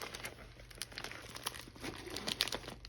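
Packaging torn open by hand without scissors during an unboxing of glitter supplies, a steady run of close crinkling and ripping with small crunchy bursts, no talking.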